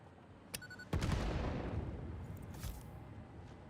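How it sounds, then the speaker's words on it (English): Explosions with knockback in the Satisfactory video game: a sharp crack, then a heavy boom that rolls into a long rumbling tail, with a smaller burst later, moderately loud and with no voices. "Now they have some of these that also do knockback, these explosions."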